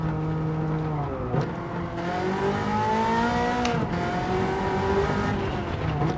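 Ferrari F40 in a racing video game on the Nürburgring, engine howling and shifting pitch as it brakes too late and loses control, a continuous loud in-car engine drone without speech.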